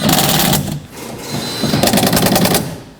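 A power tool rattles in rapid bursts while snugging a nut on a window regulator inside the door of a 2007-2009 Saturn Aura, two loud close runs of hammering impacts separated by a brief pause.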